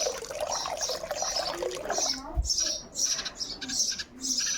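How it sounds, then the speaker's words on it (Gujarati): Liquid cleaner pours into a bucket of mop water, a soft continuous splashing trickle with faint bird chirps in the background. "આ પોતુમાં થોડુંક પાણી લીધું છે અને હવે હું આમાં લિક્વિડ નાખું છું."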